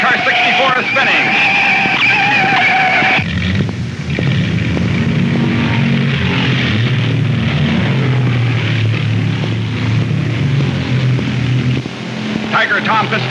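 A 1960 NASCAR stock car spins out at Charlotte Motor Speedway, a loud smeared roar of engine and tire scrub over a commentator's steady narration, dropping into a lower rumble of passing cars.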